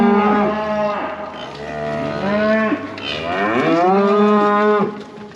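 Cattle being brought in for weaning moo loudly and close by, several long drawn-out lows one after another with short gaps, no talking.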